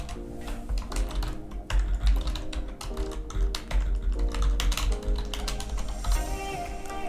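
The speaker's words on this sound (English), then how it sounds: "And I would type a description." Computer keyboard typing a description into a software platform form, a fast, continuous patter of close key taps with no talking.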